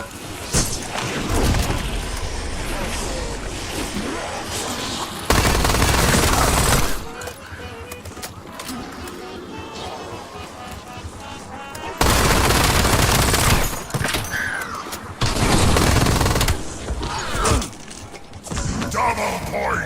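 Gunfire from Black Ops 7 Zombies, a video game, comes in loud rapid bursts of shots separated by quieter stretches of game noise and thuds, with a voice speaking at times.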